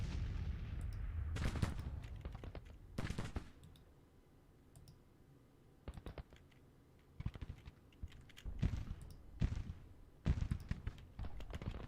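Artillery bombardment in the Grand Tactician strategy game, a run of sharp cannon booms and crackling gunfire in separate bursts with quiet gaps between them, fairly faint and with no talking.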